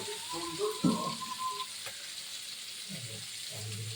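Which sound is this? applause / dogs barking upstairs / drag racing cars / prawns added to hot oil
prawns added to hot oil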